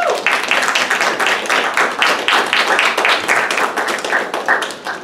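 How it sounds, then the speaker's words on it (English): An audience at a public meeting on police brutality in Seaside, California, claps in a dense, steady burst of applause that stays fairly loud throughout, with no talking over it. "I ask you guys to hold your applause"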